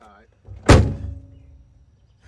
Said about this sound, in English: Why you slamming the door like that?